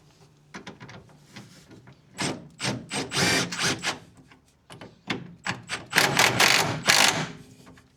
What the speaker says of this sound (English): I button up the bolt at the front with the actually correct size socket.